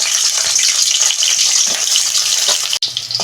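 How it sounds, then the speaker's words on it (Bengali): Broad beans frying in hot oil in a wok, giving a steady, dense sizzling hiss that carries through the whole stretch, close and fairly loud, with a brief break near the end. "প্রথমে সিমটা ভেজে নেব।"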